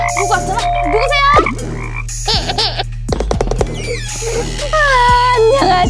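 A frog croaks in a children's animated pretend-play show. Several croaks come close and loud among tonal sweeps and other cartoon effects.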